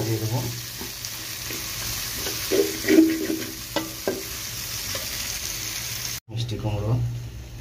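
Sweet pumpkin frying with onion and chili in a pot over high heat, with a steady sizzle and repeated scraping stir strokes, a brief gap near the end before the frying resumes.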